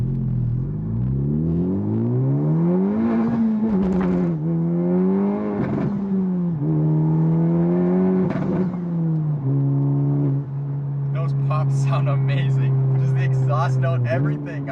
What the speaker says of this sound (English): So let's go try a first gear pull and see how the car feels.